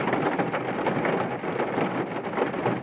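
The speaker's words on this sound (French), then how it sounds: "Il pleut à verse." Heavy pouring rain in a dense, steady downpour, loud and close, a continuous hiss of drops with no voices over it.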